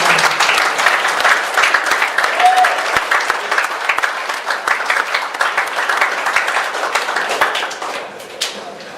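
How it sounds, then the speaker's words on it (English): A crowd at a rugby league season launch claps steadily for about nine seconds, with dense hand claps, faint murmurs mixed in, and a gradual fade at the end. "everyone give him a big clap"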